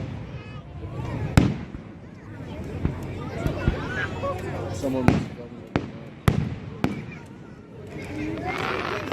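Fireworks burst at a distance with sharp scattered booms and cracks, set against a busy outdoor crowd murmur and people chatting nearby.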